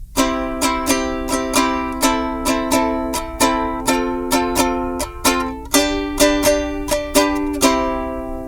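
A ukulele strummed steadily through a chord progression, bright repeated strokes in an even rhythm, with the chords changing every few beats.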